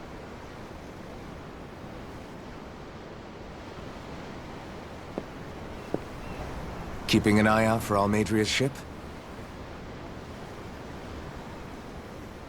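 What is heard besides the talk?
ocean waves in the video game Tales of Arise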